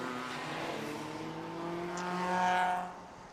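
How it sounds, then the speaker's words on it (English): Touring race cars at the DeWALT Grand Prix 2023 Baltic Touring Car Championship drone through their warm-up lap, engines humming steadily at mid distance and then swelling louder as they rise in pitch before easing off. "cars are already on their warm-up lap"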